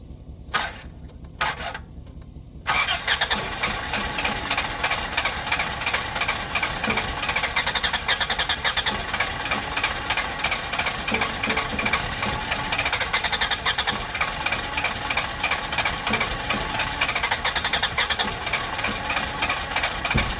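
A 1993 Plymouth Grand Voyager SE minivan engine, revived after 18 years parked, cranks with a couple of short bursts, then catches and sputters roughly in a loud, steady, uneven run that barely keeps going.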